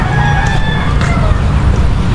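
A rooster crows on a rural provincial homestead that also keeps ducks. The crow is clear and fairly close, over a loud, constant rumbling background noise.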